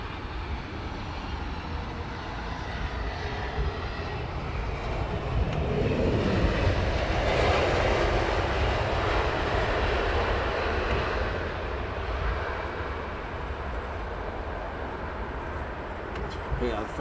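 A small airliner arriving on Heathrow runway 27R rumbles in as a broad, steady roar that swells and then slowly recedes, with voices talking nearby throughout.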